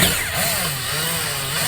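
A jack nut being tightened into van conversion wall framing, giving a steady, close mechanical whirring with a rising and falling pitch that runs continuously for under two seconds with no talking.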